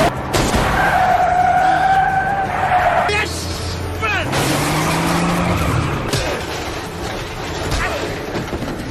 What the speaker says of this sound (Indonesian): Yunggu juga menembak bannya dan akhirnya truk pun terguling.